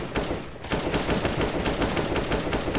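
Rapid gunfire in CS:GO, a dense, loud stream of shots that starts after a brief lull and continues without pause to the end.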